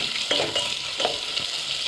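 Soya chilli with green chilli and onion is mixed over a low flame, a soft steady frying hiss with a few quick scraping stirs close by, no speech.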